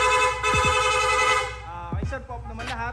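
A Honda Winner X motorcycle's rapid horn sounds in a quick series of short, bright toots, close by, while someone talks briefly over it.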